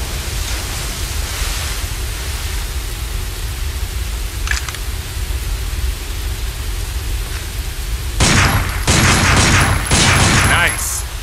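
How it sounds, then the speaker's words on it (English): Handgun shots in the Binary Domain video game: a quick cluster of sharp, loud cracks near the end, following a long stretch of steady hissing ambience with one faint earlier pop. "Take out your handgun and try shooting that sign"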